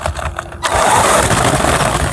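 Off-road RC car driven by an electric drill motor, quiet clicks giving way to a loud, close, sustained whirring rev that holds steady for the rest of the moment.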